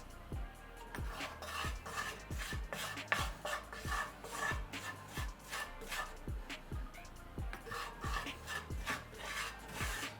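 A spoon or whisk stirs flour into oil in a pot for vegan gravy, making a steady series of soft, repeated scraping strokes with a quiet, close rasp and no talking.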